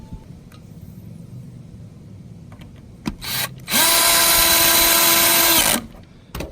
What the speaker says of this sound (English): What's that drill?